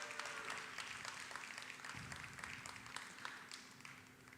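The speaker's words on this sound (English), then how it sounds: "What do you say we give him a nice big round of applause?" A modest round of applause greets a glassblower at a live glass-working demonstration, a quiet, steady patter of clapping hands with a low hum beneath it.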